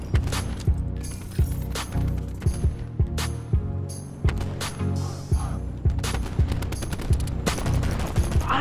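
Pistol gunfire in the video game Black Ops 4, a loud, close string of sharp shots at a quick, fairly regular pace, punctuated by mechanical clicks, with no talk over it.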